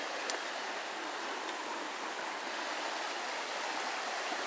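Steady, even rush of flowing water, like a creek running over rocks, continuous and unbroken with no voices.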